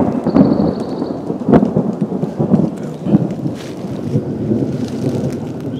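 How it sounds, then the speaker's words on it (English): Thunder rumbles loudly and continuously over steady heavy rain in the woods during a spring turkey hunt, with no voices. "More thunder"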